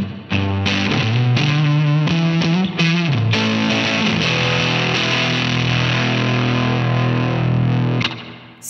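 Distorted electric guitar plays a phrase, quick choppy chord strikes giving way to sustained ringing notes and a final chord, loud and close with no talk.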